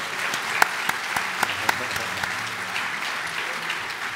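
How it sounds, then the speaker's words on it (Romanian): A church audience at a baptism service applauds in a steady, dense patter of clapping with a few sharper claps standing out, while voices murmur underneath. "Vrem să vă aplaudim."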